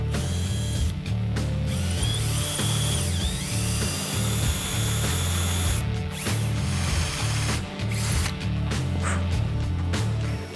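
A power drill bores through an exhaust end cap to take stainless steel pop rivets, a loud close grinding whir with a low rhythmic chatter, interrupted by a few brief pauses as the bit bites and stops.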